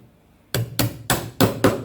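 A chisel is struck five times in quick, even succession while cleaning tread pockets in a pine stair string, each blow a sharp close knock after a brief silence.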